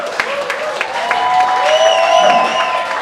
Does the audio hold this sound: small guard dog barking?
no